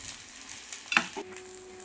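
Onion paratha frying in oil or ghee over a medium flame, giving a soft steady sizzle with a brief louder crackle partway through, fairly quiet and with no voices.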